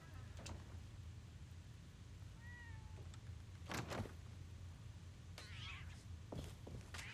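A cat in the Fallout 4 video game lets out a couple of faint, short meows amid quiet background ambience and scattered soft clicks, with no talking.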